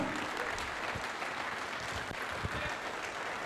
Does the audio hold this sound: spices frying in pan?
no